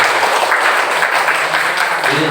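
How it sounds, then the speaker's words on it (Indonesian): A room full of people gives a steady burst of applause at a school training session, dense continuous clapping that fills the space, loud and close. "Untuk yang terakhir kita beri aplaus buat Bapak Andri Prasetyo"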